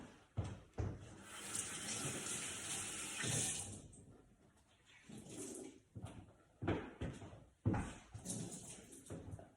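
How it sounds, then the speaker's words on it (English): Tap water runs steadily into a sink to wet a tea towel for softening dried icing sheets, with a cupboard knock and short bursts of water and handling afterward. "So I've just wet the tea towel, like so."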